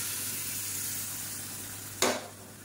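Quiet, steady sizzling of vegetables sautéing in a pan for chutney, with one brief scraping stir near the end.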